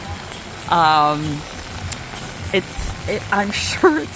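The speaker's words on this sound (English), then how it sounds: "And the rain continues." Rain falls steadily in St. George's, Bermuda, a soft continuous patter of drops around a person who speaks briefly over it outdoors.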